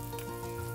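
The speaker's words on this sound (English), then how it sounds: "pan fry the salmon" Salmon pan-frying in butter and white wine sizzles softly and steadily in a brief, faint burst with no other sound.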